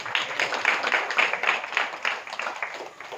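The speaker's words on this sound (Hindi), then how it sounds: "इनके लिए जोरदार तालियां हो जाए।" An audience gives a brief burst of steady, dense applause that holds at an even level for a few seconds with no voices over it.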